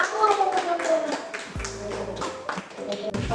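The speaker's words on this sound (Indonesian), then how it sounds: "Tepuk tangan untuk Bang Akmal" A small audience at a presentation gives a short burst of scattered clapping for the presenter, with voices chattering over it and a low thump partway through.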